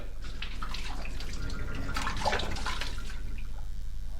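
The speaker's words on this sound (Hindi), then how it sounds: "चल जी, गोड़ हाथ ला धो।" Water poured out for washing hands and feet, heard as a steady close splashing and trickling that runs through the whole moment in a Chhattisgarhi radio drama scene, with no talking over it.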